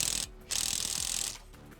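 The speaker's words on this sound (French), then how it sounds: "Je vais la revisser, mais uniquement avec le premier mode pour pas serrer trop fort." A TEENO 320 Nm brushless impact wrench drives a screw back in on its lowest mode: a short whirring burst, a brief pause, then a longer buzzing run with rattling, up close and with no talk.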